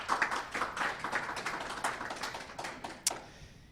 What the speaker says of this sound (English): A huge round of applause for all participants and for those who reached today's final